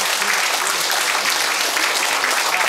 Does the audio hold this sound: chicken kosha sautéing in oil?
no